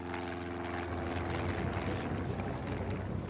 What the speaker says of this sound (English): a Cessna light aircraft landed in Red Square